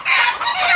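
A chicken clucks loudly and close by in one brief, drawn-out call.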